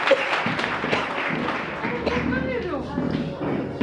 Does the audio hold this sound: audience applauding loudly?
yes